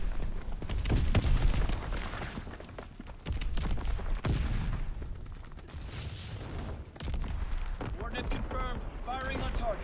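Dense, sustained gunfire from a video game battle, rolling bursts and booms filling the scene with scattered sharper shots, continuing loudly throughout with some voices or tonal sounds mixed in near the end.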